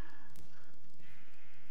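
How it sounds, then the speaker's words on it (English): Sheep bleating in the Minecraft video game, one short wavering bleat heard clearly and alone with no talk over it. "Why are sheep, like, just chilling?"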